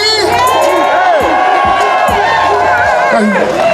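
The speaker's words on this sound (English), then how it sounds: "Give yourselves a round of applause, DC." Loud, sustained cheering and shouting from a big outdoor rally crowd in Washington, D.C. at a Juneteenth reparations event, with scattered whoops and voices over a constant wash of noise.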